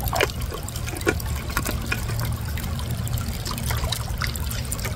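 Liquid disinfectant trickles and splashes as it is poured into a water container, a steady close dribbling with small splashy accents throughout and no talk.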